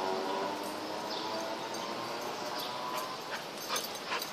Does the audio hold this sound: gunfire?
no